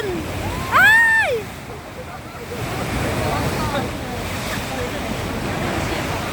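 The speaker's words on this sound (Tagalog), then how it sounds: "Ang lalakas na ng alon!" Strong ocean waves crash and surge in a continuous roar on a windy shore during a tidal wave, with brief excited shouting near the start before the surf noise fills the rest.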